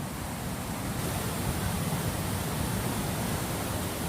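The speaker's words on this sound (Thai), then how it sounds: "ไม่เคยเห็นน้ำตกเท่าโต้ มีน้ำเยอะขนาดนี้เลยนะครับ" A constant roar of rushing water from Thao To waterfall in Nong Bua Lamphu, Thailand, swollen after a day of rain, fills the whole stretch, a dense, even wash of noise with no breaks and no voices.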